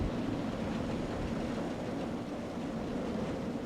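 Roller coaster train from RollerCoaster Tycoon 3 loading and running, a steady dense rumble with rail clatter that holds an even, continuous level throughout with no talking.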